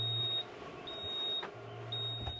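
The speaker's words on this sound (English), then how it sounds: "It's just beeping a lot." Induction cooktop inside a van giving off repeated high electronic beeps, several short tones in a row over a low steady hum, fairly close and moderate in level.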